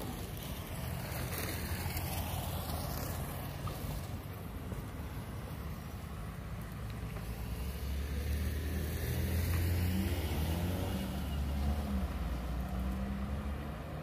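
Buses idle and move through the Recife bus station, a continuous loud engine rumble with passing vehicle sweeps and a deeper engine swell in the second half.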